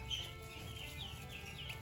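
Faint high peeps from ducklings come in short repeated chirps over a low rumbling background, at moderate distance.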